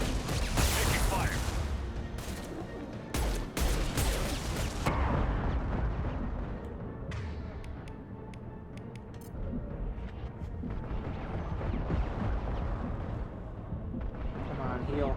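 Gunfire and explosions from the Mass Effect 2 video game, with dense bursts and booms that are loudest in the first five seconds and then become a sustained rumble of combat under a player's talk.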